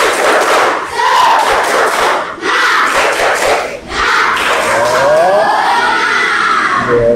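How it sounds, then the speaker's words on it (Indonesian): Students in a classroom repeat a rhythmic spirit clap, loud bursts of clapping and group chanting with short gaps between, ending in a drawn-out sung voice over the room. "Sekali lagi tepuk semangat."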